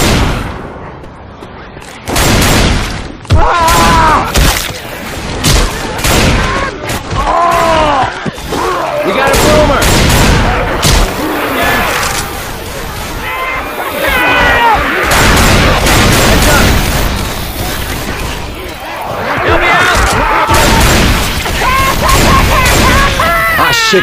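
Rapid, loud gunfire from the video game Left 4 Dead 2 on the Dark Carnival campaign in Realism Expert mode, nearly continuous bursts of shots and impacts with voices talking over the chaos.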